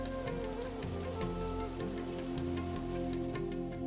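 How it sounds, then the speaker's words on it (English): Monsoon rain falls in India as a steady, even hiss throughout, with tonal background music layered over it. "Each summer, thundering walls of rain sweep in from the Indian Ocean"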